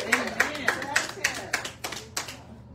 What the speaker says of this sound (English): just give yourself kind of an applaud with one hand